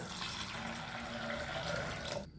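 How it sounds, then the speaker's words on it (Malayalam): Water pours steadily into a pressure cooker holding green peas in a home kitchen, a close, even splashing rush that stops abruptly near the end. "ഇനി നമ്മുടെ ഗ്രീൻ പീസ് വേകാൻ ആവശ്യമായിട്ടുള്ള വെള്ളം ഒഴിച്ചു കൊടുക്കാം"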